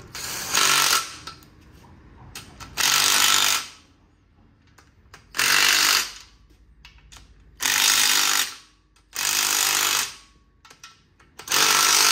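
Power tool tightening bolts in a crisscross pattern on a GM 3.6L engine during timing chain work, six loud buzzing bursts of about a second each, separated by quieter pauses.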